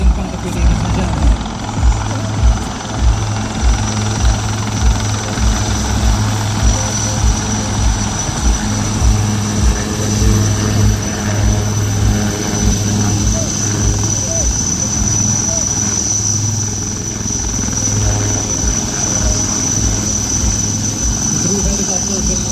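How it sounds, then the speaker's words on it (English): Indian Army Dhruv helicopters fly past at a Vijay Diwas military display, a loud continuous rotor thump and turbine whine holding steady throughout while an announcer speaks over a public address system. "The Dhruv helicopters will now move on to the right and showcase you the demonstration of terrain."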